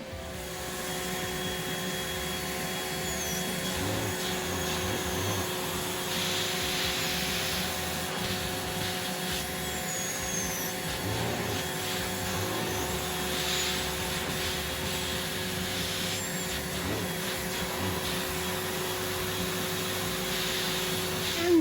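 A Rainbow vacuum cleaner runs nearby with a steady, loud motor whine and airy rush, and slight surges come and go as it is worked over a surface. No one talks.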